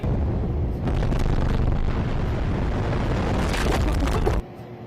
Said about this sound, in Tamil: இப்போ இந்த கட்டிடம் மருந்து வைக்கப்பட்டு வெடிக்கிறதுக்கு தயாரா இருக்கு